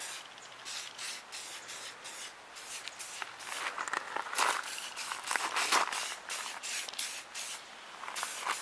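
Aerosol can spraying rust-prevention coating thickly onto a Honda CR-V during routine maintenance, a series of close, loud hissing bursts of varying length with short gaps between them, no talking.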